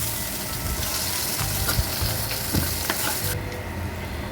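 Rohu fish pieces fry in hot oil with a steady, loud, crackling sizzle and occasional clinks of a utensil, continuing without talk before the sizzle cuts off near the end.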